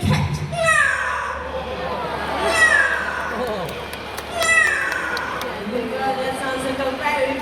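A parrot imitates a fierce cat, producing several loud, drawn-out meows and caterwauls in close succession, with people talking around the calls.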